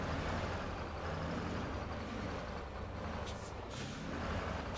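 A truck in the Expeditions video game grinding slowly through a tight gap between trees and rocks, a continuous low engine rumble with broadband rushing noise and a couple of brief sharp hiss-like bursts near the end.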